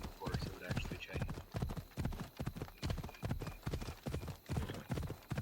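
Rhythmic hoofbeats of a horse in the video game Assassin's Creed Odyssey clip-clop at a quick, even gallop, up close and steady throughout, with nothing else standing out.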